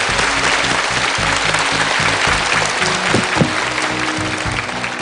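Warm applause from a studio audience at a Korean lecture show, a steady dense clapping wash that holds for the full stretch without pause.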